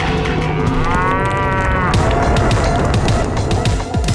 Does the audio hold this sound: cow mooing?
yes